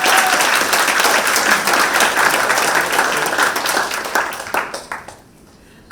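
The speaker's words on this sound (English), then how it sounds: "Shall we give the team a big round of applause?" A big round of applause from the audience at a youth startup demo day, steady and loud for about five seconds, then tapering off into a few last claps.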